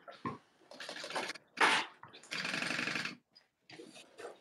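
A domestic sewing machine stitches a boxy bag made with clear vinyl, running in several short bursts of whirring with brief pauses between them, close and fairly quiet.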